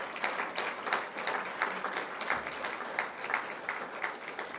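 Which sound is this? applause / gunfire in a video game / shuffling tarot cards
applause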